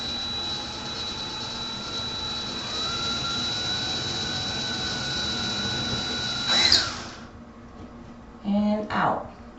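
A handheld power drill whines steadily as it bores into drywall to mount a window treatment rod. It cuts off abruptly with a squeal, then gives two short bursts.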